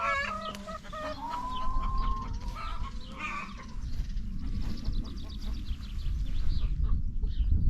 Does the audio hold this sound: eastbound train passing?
no